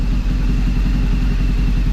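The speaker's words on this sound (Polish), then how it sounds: "nie pracuje on równo ten motocykl rzuca nim troszeczkę" Close, steady low-pitched idle of a BMW R 1200GS motorcycle engine, its pulsing beat slightly uneven and running alone without voices.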